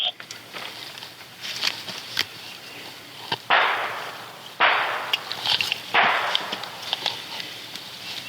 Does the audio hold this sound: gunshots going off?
yes